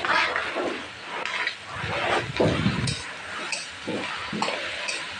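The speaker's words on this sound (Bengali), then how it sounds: "তো এভাবে নাড়াচাড়া করব।" Bottle gourd is stirred with fried onions in a frying pan, giving repeated scraping strokes and light sizzling that come in uneven pulses.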